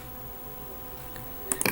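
A couple of sharp computer mouse clicks near the end, close and crisp, after a quiet stretch of low background hum.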